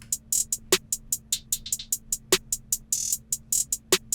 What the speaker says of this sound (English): Snare.